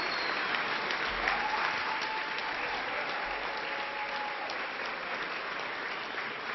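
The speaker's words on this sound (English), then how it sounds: "let's give a big round of applause to Rita Williams" A large audience applauds steadily at an awards gala honouring Rita Williams for her 41-year television career, a dense even wash of clapping that holds at constant strength throughout without cheering or voices.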